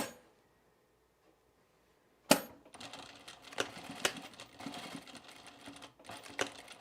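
A domestic sewing machine runs a quarter-inch seam along the back of a jacket sleeve, its rapid mechanical stitching chatter starting after a quiet moment and continuing close and steady, with a few sharper clicks.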